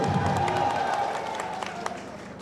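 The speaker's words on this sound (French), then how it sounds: "Applaudissez quand même!" A political party rally crowd claps in a fairly steady, moderately distant patter, with scattered sharper claps and a murmur of voices underneath.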